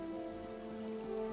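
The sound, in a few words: rain in the West Weald, video game Elder Scrolls Online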